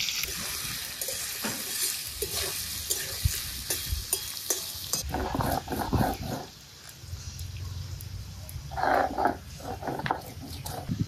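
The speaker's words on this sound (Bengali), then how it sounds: "এখন রান্নার মাছগুলো ভেজে নিচ্ছি, এগুলো দুইবারে ভাজলাম।" Steady hiss of fish frying in hot oil in a wok, with scraping stirs and a few clattering knocks from the pan; no voices.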